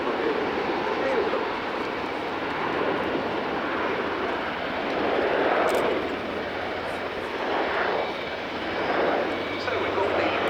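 A Luftwaffe Airbus A400M Atlas military transport flies a display at an airshow, its turboprop drone rising and falling at a distance while an announcer talks over it.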